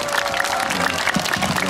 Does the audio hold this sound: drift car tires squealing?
no